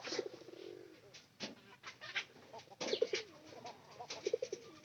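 Native pigeons of a jalali colour cooing nearby, a few soft low cooing phrases spaced across the moment with rustling and light bird sounds in between, no talk.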